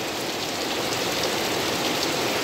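Heavy monsoon rain pours down hard and steady, a dense, loud, unbroken hiss of drops striking the ground nearby, with no voices.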